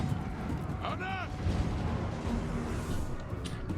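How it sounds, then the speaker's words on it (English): Cannon fire and heavy impacts roar through a fantasy dwarf battle in Ironbrow's Expedition, a dense continuous din of booms and clashing with a brief shouted voice and a high squeal over it. "Oh, the cannons are taking damage."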